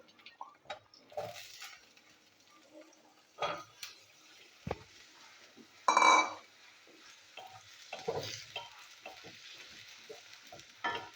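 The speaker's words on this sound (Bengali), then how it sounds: "পেঁয়াজের সাথে আমি আলুগুলো ভেজে নেবো একসাথে।" Potatoes and onion frying together in a pan, a soft sizzle under repeated spatula scrapes and clacks against the metal, one louder clatter midway, close and without talk.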